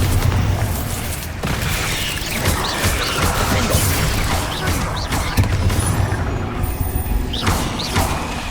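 Hogwarts Legacy spell combat, including a Bombarda explosion, heard as a dense wash of booming crashes and magical impacts over continuous loud rumble, with no clear single blast standing out.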